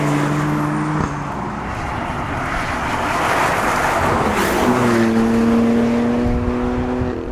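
A petrol BMW M3 and a diesel Alpina D3 accelerate hard side by side, loud engine drone rising in pitch, with a gear change partway through and the revs climbing again.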